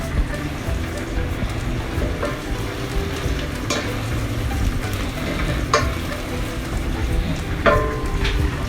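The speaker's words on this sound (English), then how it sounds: "down here onion is cooking" Steady sizzling and crackling of onions frying in a pan, a continuous close hiss with occasional sharper pops and stirring clinks.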